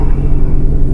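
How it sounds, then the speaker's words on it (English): An old car's engine idles steadily just after a cold start, a loud, close, continuous low rumble with no talk over it. "cold start sounds pretty solid."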